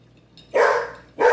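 A pet dog in a home kitchen gives two loud, close barks about half a second apart, standing out sharply against a quiet room.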